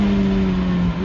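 A Ferrari F430 roadster with a 490-horsepower engine holds a loud, steady rev with a sustained droning pitch, close and unbroken through the brief moment.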